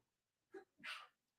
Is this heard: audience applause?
no